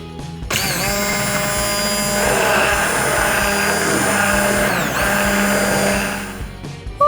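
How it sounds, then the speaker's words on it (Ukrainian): A blender purées soft cooked pumpkin, running steadily at high speed with a whirring, harmonic motor whine that dips briefly midway, then stops near the end. "Значить, тепер вже можна збивати блендером."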